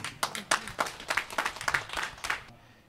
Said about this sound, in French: vous êtes parmi la grande famille qui applaudit avec nous ici